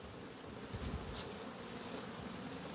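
Soft, steady buzzing of many bees flying around a hive near a feeder, a faint continuous drone with a couple of brief closer passes, no talking.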